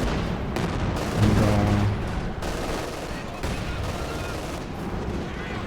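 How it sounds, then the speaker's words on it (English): Heavy mortar fire booms in a World War II strategy game match, a dense stretch of loud gunfire and artillery blasts under an excited commentator's voice. "Insane value by the mortar here. The big boy mortar."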